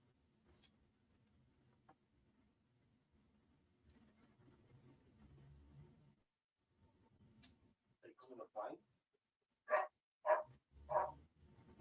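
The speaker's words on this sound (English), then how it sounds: "What are them dogs barking about?" Dogs barking in a run of sharp, loud barks clustered near the end, preceded by quieter background noise and faint talk.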